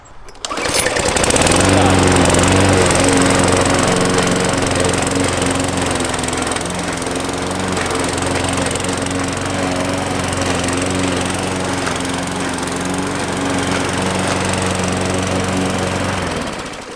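An Aldi Ferrex petrol self-propelled lawn mower mulches long grass at its lowest cutting height. Its engine drones loud and close after starting abruptly, holds a steady throbbing note, and has a voice faintly underneath.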